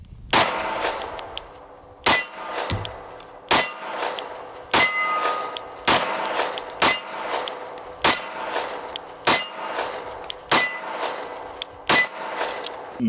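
Ten sharp pistol shots from a Glock 19 at a shooting range, fired one at a time at about 1.3-second intervals, each a loud close crack with a metallic ring, and no talking.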